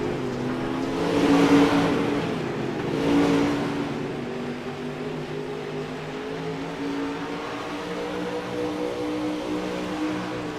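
Race cars in a heat race roar past with rising and falling engine revs, two louder swells early, then a steady mid-distance drone of engines lapping.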